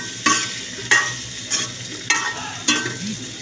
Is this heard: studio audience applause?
no